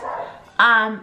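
A pet dog gives one sharp, close bark indoors after a softer murmur, loud and short against a quiet room.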